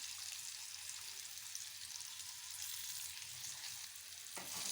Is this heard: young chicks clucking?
no